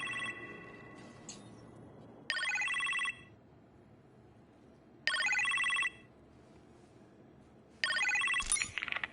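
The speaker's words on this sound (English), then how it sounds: "You appear to have a phone call in the kitchen," A telephone rings in a kitchen in the Iron Man VR video game, giving three clear, evenly spaced electronic ring bursts at moderate volume. A quiet background hum fills the gaps between rings.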